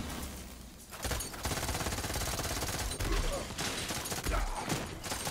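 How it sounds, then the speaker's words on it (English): The Light Show, a legendary gun in Borderlands 3, fires rapid bursts of four bullets in a rotating square pattern, a dense, continuous stream of loud shots with brief pauses between volleys. "the unique ability of the light show is it shoots four bullets in a square pattern"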